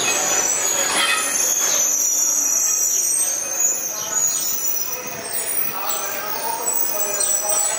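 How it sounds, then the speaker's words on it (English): An Amtrak passenger train pulls into the Toledo station around dawn, its wheels squealing steadily against the rails over continuous rolling rumble, loud and close throughout. "Here we have another Amtrak train arriving into Toledo at about 6 o'clock."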